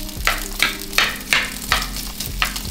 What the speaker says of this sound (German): Oh, es fängt schon an zu brutzeln.